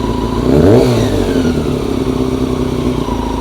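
A motorcycle engine idles loud and close while the carburettor air-fuel screws are adjusted, with a short rise and fall in revs early on before settling back to a steady, slightly uneven idle.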